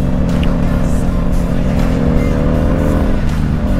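Kawasaki Vulcan Classic motorcycle pulling away from a gas station in second gear, its engine droning steadily and loudly up close with a low, even rumble and wind noise throughout.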